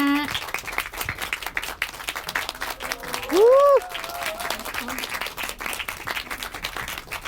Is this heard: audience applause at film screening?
yes